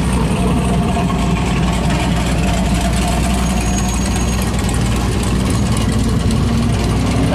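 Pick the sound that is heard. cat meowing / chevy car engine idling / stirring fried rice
chevy car engine idling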